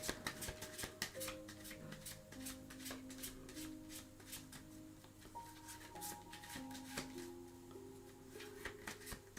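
Repeated crisp riffling and snapping of cards being shuffled, fairly close, over a steady background tone with faint music-like notes.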